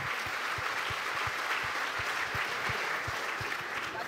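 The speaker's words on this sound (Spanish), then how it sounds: "Fuerte el aplauso para este último panel" Steady applause from a crowd at a conference panel fills the room, dense clapping holding at an even level throughout with a faint rhythmic thump underneath.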